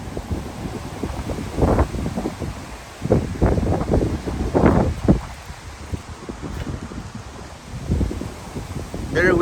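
Strong gusts of wind buffet the microphone outdoors on a windy winter day in America, rough bursting rumbles that rise and fall irregularly and stay loud throughout the stretch.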